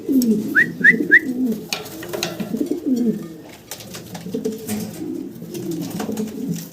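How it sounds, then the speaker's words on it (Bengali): Several Modena pigeons coo in low, rolling, throaty calls close by, overlapping steadily, with a few brief higher chirps early on. "এখানে মডানা কবুতর দেখেন"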